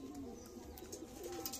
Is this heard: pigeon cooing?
yes